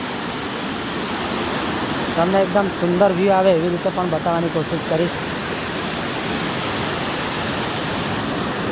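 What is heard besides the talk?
small waterfall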